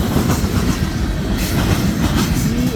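CN freight train M342, led by locomotive 2890, rolls past at Ladysmith, Wisconsin near its end, loud and close, with rhythmic clickety-clack of wheels over rail joints and a faint metallic squeal.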